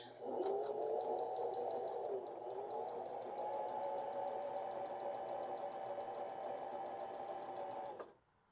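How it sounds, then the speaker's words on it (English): A BabyLock Joy BL25B household sewing machine stitching a buttonhole, its motor running as a steady, even whir with a slight shift in pitch partway through, then cutting off abruptly. "let's start sewing out this buttonhole"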